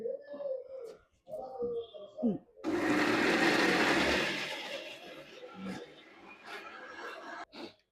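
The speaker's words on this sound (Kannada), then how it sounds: "ಇನ್ನ ಸ್ವಲ್ಪ ರುಬ್ಬೇಕು, ನುಣ್ಣಗೆ ರುಬ್ಕೋಬೇಕಣ್ಣ." A mixer grinder whirs for about three seconds as it grinds boiled ingredients with their cooking water into a fine paste, starting and stopping abruptly, with talk and brief bird-like coos before and after it.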